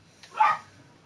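A dog whines once from inside a room, a short, fairly close, high-pitched cry that swells and then fades.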